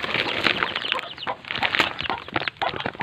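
Native chickens cluck and chatter close by in a busy farmyard, with quick overlapping calls and soft bursts of sound coming steadily and no talking.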